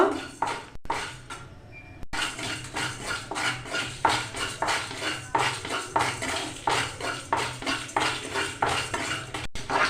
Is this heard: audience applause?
no